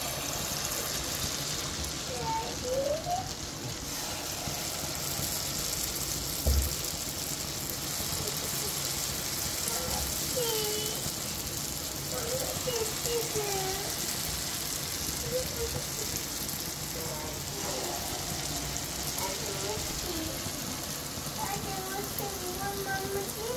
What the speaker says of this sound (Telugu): ఇప్పుడు నేను ఆయిల్ హీట్ చేసుకొని బోండా అనేది వేసి చూపిస్తాను మీకు ఎలా వస్తుందని